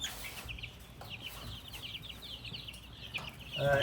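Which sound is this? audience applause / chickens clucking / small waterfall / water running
chickens clucking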